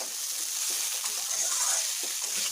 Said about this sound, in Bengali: থোড়কে একটু বেশ ভালোভাবেই টাইম দিয়ে ভেজে নিতে হয়